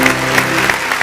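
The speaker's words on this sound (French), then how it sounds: "On va applaudir très fort s'il vous plaît pour Rocky Gold." A loud, dense burst of applause from a studio audience on a French television show, greeting the guest Rocky Gold; continuous close clapping for about a second.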